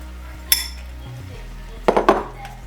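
Onions dropped into a pot of browning meat, set off by two clusters of clinks and scrapes, one short knock then a busier rattle of utensil against pot, over a low steady background hum.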